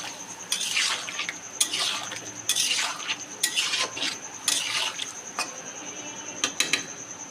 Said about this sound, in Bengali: এবার ভালোভাবে আমি সবগুলোকে কষিয়ে নেব ভালোভাবে।